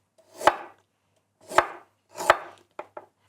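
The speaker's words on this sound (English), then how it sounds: "And for the ginger, nice thin pieces." A knife slices fresh ginger into thin pieces on a cutting board: three crisp, close chops spaced about a second apart, then two lighter quick taps.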